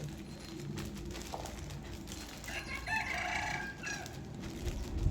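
Chickens cluck around a rural yard while a rooster crows in the middle distance, the calls rising over steady outdoor background noise.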